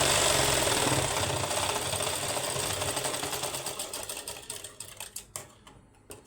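Sewing machine running a double line of stitching on an apple cut kurti, a steady rapid needle rattle that slows into separate bursts and stutters toward the end, close and alone.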